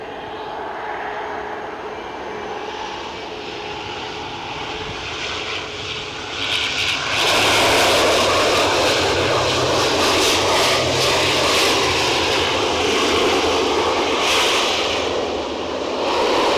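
Airbus A350 at Edinburgh airport in a crosswind, engine roar swelling loudly after a quieter opening and holding as a broad, close rumble with rising whine.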